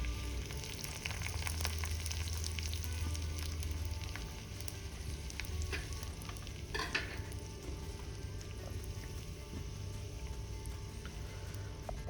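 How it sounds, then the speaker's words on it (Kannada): Dry chilli and mustard seeds frying in oil for a Malabar spinach tempering, a continuous crackling sizzle with scattered sharp pops and occasional utensil clinks, one brief louder scrape midway, steady and moderately faint throughout. "ಈಗ ಸ್ವಲ್ಪ ಆಯಿಲ್ ಮತ್ತು ಸಾಸಿವೆನ ಹಾಕಿದ್ದೀನಿ. ಹಾಗೆ ಅದಕ್ಕೆ ಸ್ವಲ್ಪ ನಾವು ಒಣಮೆಣಸನ್ನು ಹಾಕೋಣ."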